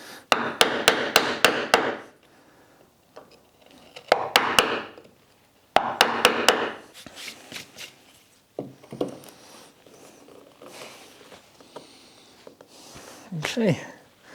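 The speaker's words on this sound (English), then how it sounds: "I'm going to clean this up with the chisel" A chisel cleans up a cut in wood on a workbench tool holder, giving sharp tapping and chopping strikes in quick clusters, close by, while someone talks between and over them.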